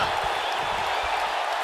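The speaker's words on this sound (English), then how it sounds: "Listen to this crowd here in Virginia." Wrestling arena crowd in Virginia cheering at a WWE SmackDown event, a steady dense roar of many voices filling the space, loud and continuous without a break.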